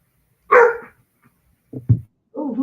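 A dog barks at a stranger in a few sharp bursts: one long, loud bark, then two shorter barks after a pause, and a final whiny bark, all close by with no talk.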